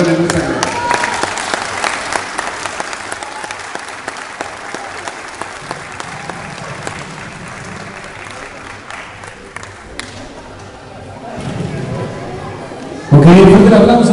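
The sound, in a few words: crowd applause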